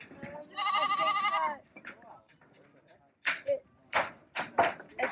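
Goats bleat in a long, loud wavering call near the start, followed by shorter scattered sounds while people talk throughout.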